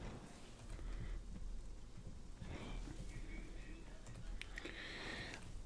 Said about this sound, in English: I'm pretty sure it's a bad thing that it's raining inside the brewery.